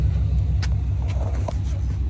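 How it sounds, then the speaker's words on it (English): A blue truck's engine runs after being started, with fresh transmission fluid just added. A steady, deep low rumble carries through the brief stretch, with a few faint clicks and knocks on top. "I love how that blue truck sounds."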